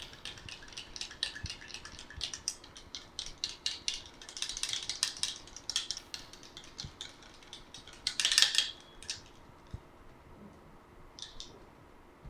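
A homemade pigmentation face pack paste is stirred in a bowl, giving faint, irregular ticking and scraping clicks that continue quietly throughout with no talking.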